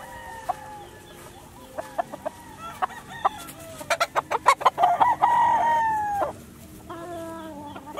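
Gamefowl chickens cluck in a rapid burst, then a rooster crows loudly nearby, with more clucking and calls around it at a game farm in Calaca, Batangas.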